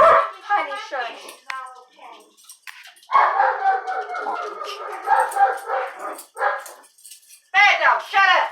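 A dog barks repeatedly in short, loud bursts with yips and whines mixed in, nearby and indoors during a lightning storm, while a person talks over and between the barks.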